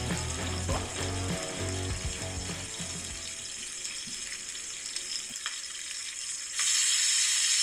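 Bacon fries on a Pit Boss griddle with a steady crackling sizzle, mixed with scattered scraping and clicking at first, then a brighter, louder hiss near the end.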